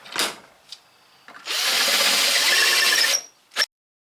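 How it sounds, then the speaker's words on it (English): A power drill whirs steadily for about two seconds as it bores into deer antler, with a few short knocks and taps before and after. "Now, I think I'm going to drill down."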